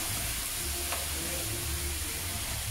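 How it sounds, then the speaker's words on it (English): Marinated pork steaks sizzle and fry steadily in an oiled pan, a dense, continuous close-up hiss with faint crackles and no talk. "So we marinate it. Put each one of them onto the pan."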